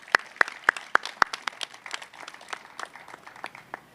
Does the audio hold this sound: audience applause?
yes